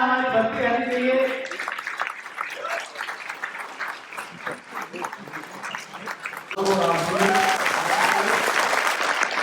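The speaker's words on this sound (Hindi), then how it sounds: "जोरदार तालियां हमारी बजती रहनी चाहिए।" Loud applause from an audience at a direct selling event fills the room and carries on steadily, with a voice speaking over it at the start and again near the end.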